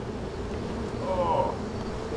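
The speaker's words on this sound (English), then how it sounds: "so you know if you're crushing a bee or not" Bees buzzing close by in a steady, continuous drone, with one buzz rising briefly near the middle, while someone handles a hive.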